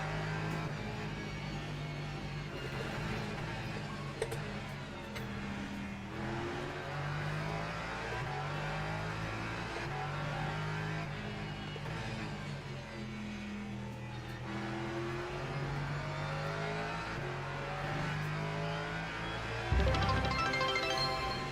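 Porsche race car engine in a racing video game at Barcelona, a steady loud drone with shifting engine tones throughout, rising into a brief louder burst near the end.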